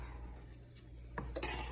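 A spatula scrapes and clinks against a frying pan while food is moved around, a few quiet taps followed by a brief, sharper metallic scrape near the end.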